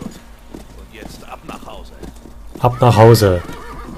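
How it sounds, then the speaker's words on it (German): A horse whinnies loudly and close in Call of Juarez: Bound in Blood, a rising, harmonic neigh near the end after a quieter stretch, with someone speaking German over the game sounds. "das ist cool, man kann reiten"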